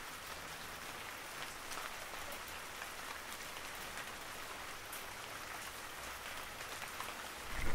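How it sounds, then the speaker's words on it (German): Heavy rain drumming steadily on a surface on the Kenai Peninsula in Alaska, a dense even hiss with occasional louder drops, constant and unbroken throughout. "auf der Kenai-Halbinsel ist so starker Regen"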